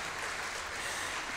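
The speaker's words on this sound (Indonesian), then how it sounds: "Paduan Suara, silakan tepuk tangan." Audience applause for a choir at its 50th-anniversary concert, an even wash of many hands clapping, moderately quiet and continuous with no voices over it.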